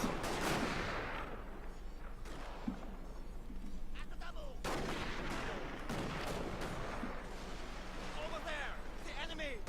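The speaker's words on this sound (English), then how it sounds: "These guys shooting it out." Gunfire from units shooting it out in a multiplayer Fields of Glory strategy game, a busy stretch of cracking rifle volleys and booming shots, with sharp bursts throughout under steady commentary.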